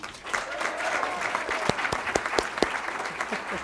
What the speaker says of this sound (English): if you'll hold your applause, I'll read all the team members in a row